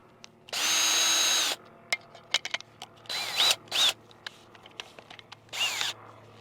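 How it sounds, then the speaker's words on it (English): A power drill with an auger bit whirs steadily for about a second while boring planting holes in garden soil, then several shorter bursts follow with clicks and clatter between them, close by. "Get my drill out, my auger."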